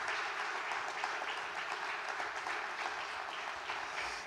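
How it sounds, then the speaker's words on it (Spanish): A church congregation applauds together, a sustained, moderately loud patter of many hands clapping at an even density from start to finish. "Dele un aplauso al Señor."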